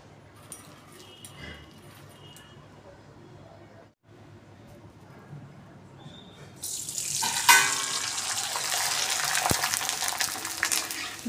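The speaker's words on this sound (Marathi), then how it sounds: "आता आपण तळून बघूया कुरडई." Kurdai, wheat papad, dropped into hot oil: quiet kitchen sounds and talk at first, then a loud, dense sizzling that bursts up suddenly and keeps going to the end.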